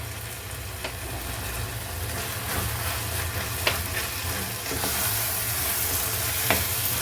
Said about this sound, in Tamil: இப்போ வந்து புளி கரைசல் வந்து நல்லா சுண்டி வருது